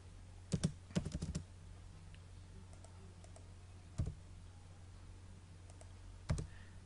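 Computer keyboard keys clicked close by in short clusters, a quick run of taps followed by isolated single presses against a quiet background hum.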